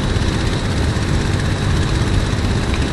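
Messerschmitt Bf 109 propeller engine under throttle, a loud, dense, steady roar with heavy low rumble filling the whole stretch without a break, up close and with no voices.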